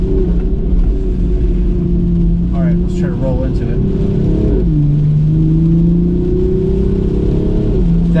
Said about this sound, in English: The car's bucking all over the place